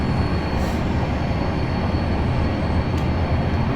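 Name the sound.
train running in video game Train Simulator 2018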